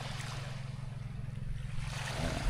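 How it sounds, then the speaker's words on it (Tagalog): Sea waves wash steadily against a rocky, pebbly beach in rough afternoon water after rain, a continuous low rumbling surge with a brief swell at the end, close and alone. "Medyo maalon kaya maraming mga dinalang dumi yung dagat"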